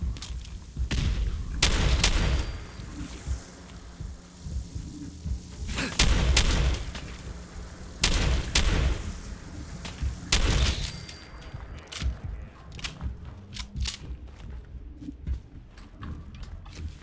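Explosions and gunfire in Fallout 4, with a grenade blast among loud booming bursts at intervals around 2, 6, 8.5 and 10.5 seconds, then sharper scattered shots toward the end, no talk.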